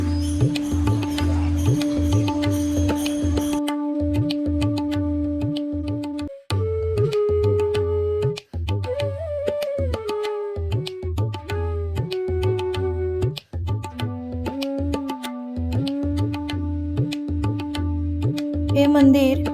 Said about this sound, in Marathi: आतमध्ये कदाचित आरती चालू आहे आवाज होतो